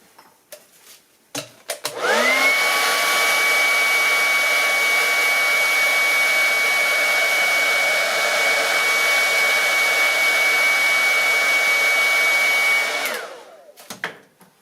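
A hot air blower roars steadily for about eleven seconds with a whining high tone, heating the back glass of a Huawei P30 lite phone, close and loud, starting and stopping abruptly amid faint handling noises.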